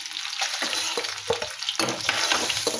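Eggs frying in a pan with a steady crackling sizzle and occasional stirring scrapes, close and fairly loud throughout, no voices.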